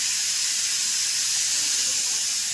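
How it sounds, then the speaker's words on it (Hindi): A kitchen pressure cooker with a faulty whistle, cooking chickpeas, releases steam in a loud, steady, unbroken hiss that fills the whole stretch without a break or any talk. "सीटी सही से नहीं है ना कुकर का"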